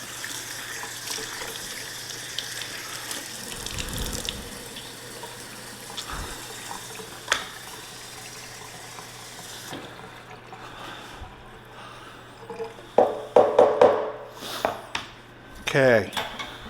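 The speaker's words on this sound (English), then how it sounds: "So I'm going to rinse these, then I'm going to pat them dry" Chicken thighs are rinsed under a steadily running kitchen tap, a constant wash of water that gives way to a few sharp clinks and knocks of dishes near the end.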